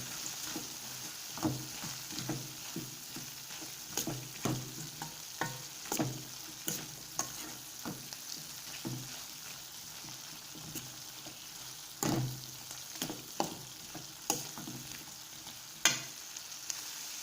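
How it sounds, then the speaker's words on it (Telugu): Coarsely crushed garlic fries in a pan with a soft, continuous sizzle, punctuated by repeated scraping stirs of a spoon every second or two, close and fairly quiet. "అలాగే కచ్చపచ్చగా దంచిన వెల్లుల్లి వేసి కలుపుకున్నాం."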